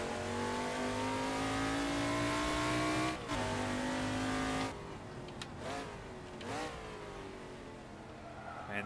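A Camaro Trans Am racing at Winton in Assetto Corsa: its engine drones loud and steady, then quick rising rev blips come as the driver heel-toe downshifts, with short tire and engine transitions.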